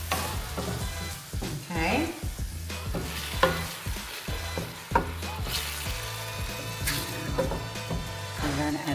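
Tomato pulp hits a hot pan for fish-soup cooking and sizzles loudly and steadily, with sharp spitting pops scattered throughout and stirring scrapes; a voice speaks a single brief word.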